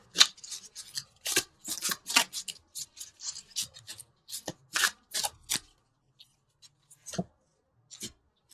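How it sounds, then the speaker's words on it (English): Tarot cards being drawn from a universal love deck, heard as a quick run of close, crisp shuffling, rubbing and card-snapping sounds that thin out into a few scattered single flicks near the end. "so let's pull a couple universal love cards."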